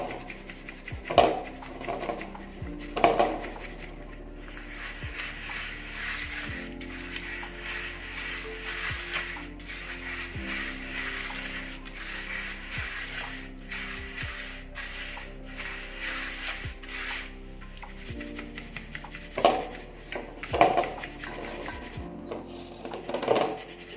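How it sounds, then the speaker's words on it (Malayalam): Freshly ground rice flour shaken through a sieve at home for making rice balls: a steady, close, raspy rubbing and scraping with rhythmic knocks of the sieve rim, continuous throughout, no voices. "ഇനി അതുകൂടി ഒന്ന് അരിച്ചു വയ്ക്കുക."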